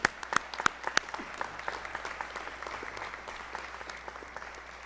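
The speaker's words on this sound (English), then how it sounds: "one more round of applause for all of our awardees today." Applause for awardees at an honors day convocation ceremony, a few sharp nearby claps over a softer, steady spread of clapping from a larger audience, fading gradually.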